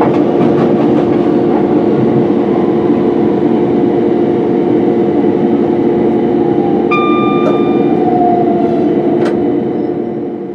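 c2c electric passenger train running toward West Ham station on a climbing approach, a steady loud rumble and rail roar heard from the cab with a brief whining tone and a couple of sharp clicks partway through.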